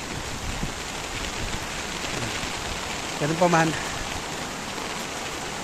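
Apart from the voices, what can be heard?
heavy rain with wind during Typhoon Carina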